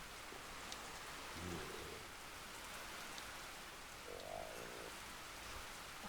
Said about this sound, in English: it does in fact rain in the Wildwood, and it rains frequently.